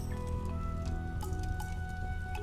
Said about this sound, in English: Drop the fruit into the water pot.